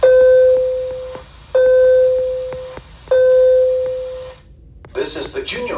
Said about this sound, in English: This is the junior high 5-minute warning bell.